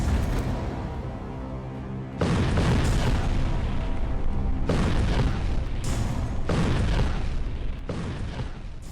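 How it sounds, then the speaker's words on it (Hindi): A bomb explodes against a 7-metre concrete wall in a test, heard as a series of loud, booming blasts with rumbling tails. Each one hits abruptly and then gives way to the next. "सामने रखी 7 मीटर चौड़ी कंक्रीट दीवार पर ये धमाका करता है"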